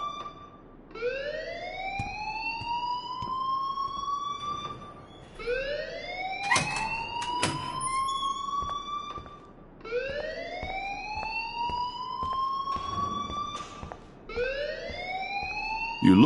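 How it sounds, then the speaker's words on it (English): A school fire alarm in the game Life is Strange wails in repeated rising siren sweeps, four long cycles each climbing then holding, loud and steady with no talk over it. "please turn off that alarm since that's your job."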